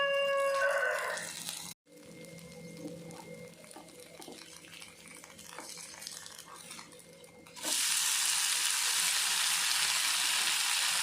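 A rava dosa fries in oil on a pan, sizzling softly under steady background hiss, then a brief dropout before a much louder, bright, even sizzle takes over.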